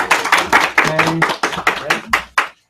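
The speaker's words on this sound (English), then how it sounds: "everyone, round of applause for Nancy" A small audience at a self-image talk gives Nancy a round of applause: a handful of sharp, uneven claps in quick bursts, close and distinct, with a brief voice among them, fading out near the end.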